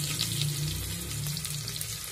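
Onions drop into hot oil seasoned with asafoetida in a home kitchen pan, giving a steady, moderate sizzle and crackle throughout, with no talking.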